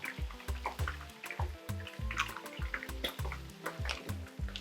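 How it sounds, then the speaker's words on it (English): Sweet chili sauce is poured into a pan in thick, rhythmic glugs and plops, close and fairly loud, with a wet dripping texture throughout. "So I'm also going to put in some sweet chili sauce"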